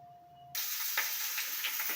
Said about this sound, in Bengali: তেল দেওয়ার পরে ক্যাপসিকাম পেঁয়াজ কুলি আর পেঁয়াজের টুকরোগুলো কড়াইতে ছেড়ে দিয়েছি। এগুলো ফ্রাই হবে।